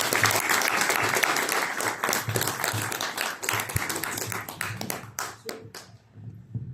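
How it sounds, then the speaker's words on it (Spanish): Indoor audience clapping for the speakers at a talk on a historic student and worker movement in Yucatán, a dense burst of applause that thins into scattered claps near the end, with a few voices mixed in. "antes les pido un aplauso para todos ellos"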